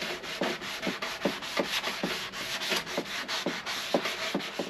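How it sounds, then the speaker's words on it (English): Sandpaper rubbed by hand over Bondo body filler on a Yamaha Virago motorcycle gas tank, a rhythmic back-and-forth scratchy rasp in regular close strokes, no voices. "taking the sandpaper, and I'm just going to sand all this Bondo we just put on"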